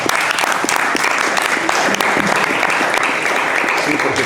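An audience at a book presentation in Guadalajara applauds a rondalla, loud continuous clapping from a full room with no pauses.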